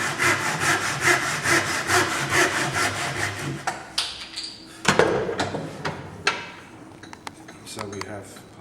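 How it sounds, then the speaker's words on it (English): A hand saw cuts across timber for a dovetail halving joint, with steady rhythmic back-and-forth strokes up close, then slower, broken strokes with a few knocks and scrapes toward the end. "using the thumb to guide the saw and slowly bringing it down on the line that we've marked"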